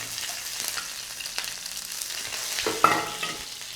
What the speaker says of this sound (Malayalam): ചെറിയുള്ളി നല്ലോണം ഇളക്കി കഴിഞ്ഞ് മൂപ്പിച്ചെടുക്കുക